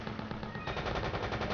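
Sustained automatic assault rifle fire from the video game Operation Raccoon City, a dense rapid stream of loud close shots running through the whole stretch and intensifying partway in.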